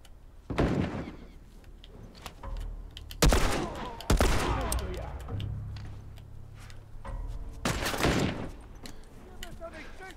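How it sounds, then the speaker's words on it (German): Gunfire in the video game The Last of Us, with shots punching through wooden cover: several loud, sharp bursts with ringing tails, spaced irregularly, and a voice faintly present underneath. "die schießen da durch. Durchs Holz schießen die."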